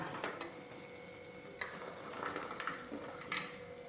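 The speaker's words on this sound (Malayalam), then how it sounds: "ഇനി നമുക്ക് തീ ഏറ്റവും ലോ ഫ്ലെയിമിലേക്ക് വെച്ച് കൊടുത്തതിന് ശേഷം റെഡിയാക്കി വെച്ചിരിക്കുന്ന മാങ്ങ ചേർത്ത് കൊടുക്കാം" Chopped mango being stirred into a bubbling mango pickle mixture on a low flame, with quiet repeated scraping and stirring strokes over a soft background sizzle.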